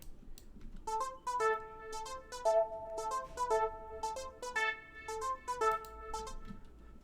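Layered synth from the Purity plugin playing a stepped melodic line of bright, sustained tones, each note change clear over a soft low bed in an amapiano production, steady and upfront with no talk.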